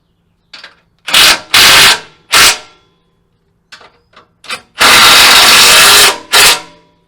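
A power tool bolts up a Relentless Fabrication hybrid bumper in loud, close bursts: several short whirring hits, then one long sustained run of roughly a second and a half, ending with a final brief burst.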